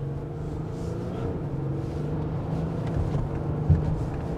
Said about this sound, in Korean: 이 디젤 엔진이 토크가 쭉쭉쭉쭉 나옵니다